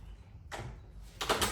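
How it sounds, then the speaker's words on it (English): A door in a home garage sliding and shutting, with a rushing swish followed by a louder rolling rumble and thud, close and alone over low hum. "I'll close the door."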